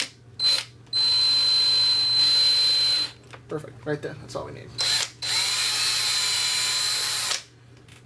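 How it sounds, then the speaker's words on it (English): A power drill whirs loudly in long sustained bursts, stopping briefly between runs, with a person speaking in the pause between them. "Now I have my drill bits all tight in there. So let's just drill straight down."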